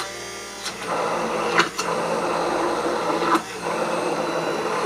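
Blender whirring steadily as it mixes homemade mayonnaise, with a continuous motor drone broken by two or three short pulses where the pitch briefly rises, fairly loud and close with no talking.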